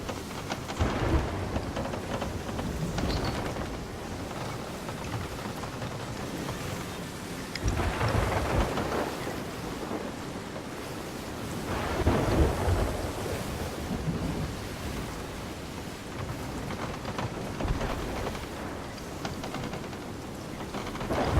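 A video game thunderstorm at sea in Sea of Thieves: constant heavy rain with several deep rolling thunder swells a few seconds apart, no voices.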